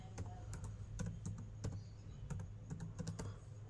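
Irregular clicking of keys on a computer keyboard, bursts of quick taps with short pauses, close and fairly quiet over a low steady hum, no talk.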